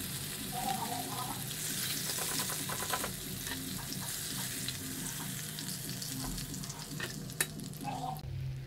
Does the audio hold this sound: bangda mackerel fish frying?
yes